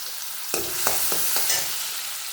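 Chopped onions sizzling in a hot pan with garlic and butter, a steady frying hiss, broken by a few sharp scraping stirs of a spatula near the start.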